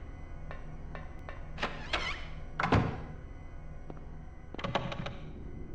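A locked door bolt is rattled in the 1999 Silent Hill game, set in a hospital. Several sharp metallic clunks and short rattles sound at irregular intervals, with one heavier clunk in the middle, over a quiet background hum.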